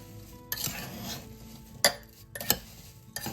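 Homemade applesauce with sugar and cinnamon being stirred in a pot, giving scraping, clinking strokes with a few sharp utensil knocks against the side, close and fairly quiet.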